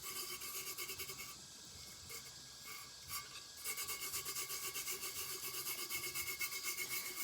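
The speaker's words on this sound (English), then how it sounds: "I take and I just burnish it. I like to use a gloved finger." Gloved finger rubbing glitter into a tacky glue-coated tumbler cup, a close rhythmic scratchy rasping that pauses briefly and then resumes in fast even strokes.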